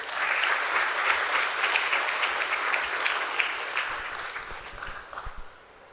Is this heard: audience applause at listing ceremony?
yes